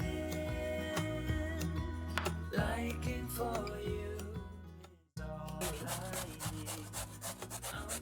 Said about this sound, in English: So we're going to grate the zucchini.